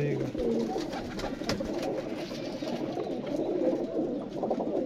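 Pigeons coo softly and repeatedly in a low, rolling rhythm against a busy background, close but not loud, while someone talks nearby.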